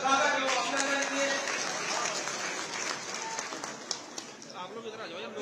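Applause at a BJP welcome event for a chief minister at a municipal election rally, a steady wash of crowd clapping that starts loud and tapers slightly, with some voices mixed in.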